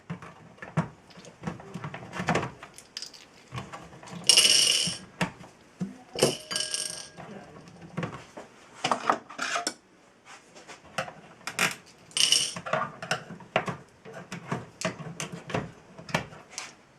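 Knobs pulled off a Yamaha EMX860ST powered mixer give a series of close, irregular plastic clicks, scrapes and rattles, with a few sharp louder snaps scattered throughout and no talk.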